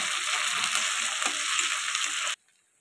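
Chopped tomato, a little salt and a spoonful of ginger paste sizzle in hot oil in a pan, a loud, close, steady frying hiss that cuts off abruptly near the end.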